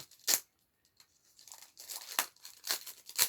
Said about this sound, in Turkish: Onu da kesmek zorundayım. Şuradan hemen kesiyorum.